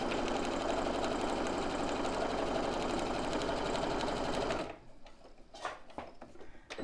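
A sewing machine stitches fabric in a fast, steady mechanical whir for several seconds, then stops abruptly and leaves quieter handling clicks and rustles.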